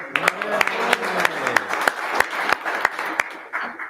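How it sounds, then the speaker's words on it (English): Applause at a town board meeting: a scattering of distinct, fairly close claps at an uneven rhythm, with a voice speaking over the start. "Give him a round of applause for that"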